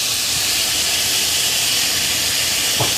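Cut potatoes dropped into browned onions in a hot frying pan set off a steady, strong hiss of sizzling oil that holds throughout, with a faint knock near the end.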